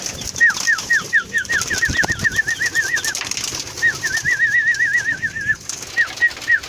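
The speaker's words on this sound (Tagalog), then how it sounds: "Ayan dyan mga kalapatid, tulad pa rin ng dati." Pigeons in a loft give repeated warbling calls in short runs, close and clear, with soft wing flutters and light rustling in between.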